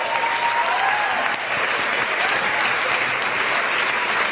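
Sustained audience applause at a live event honoring union servers and stagehands, a dense continuous wash of clapping from a large crowd, loud and even throughout.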